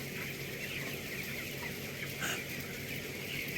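Chickens clucking in a poultry flock split into hen and rooster sides at feeding time, a steady dense chorus of clucks close by with no talk.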